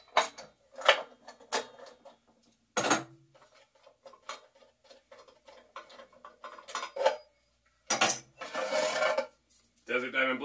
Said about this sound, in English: I'm just gonna take this blade off.